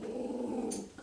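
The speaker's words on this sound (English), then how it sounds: "That's my dog Sophie barking at something" A pet dog growls and grumbles nearby in a home during a yoga session, a low continuous rumbling vocalization ending in a short sharp yip.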